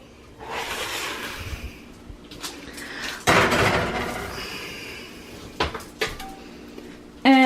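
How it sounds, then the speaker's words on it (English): Metal cake pans knock and scrape onto the middle rack of a preheated oven, with clattering clunks, a rack sliding and a sharp final bang of the door, close and loud, with no talking. "So now we are going to put our pans in the oven, which is preheated at 350"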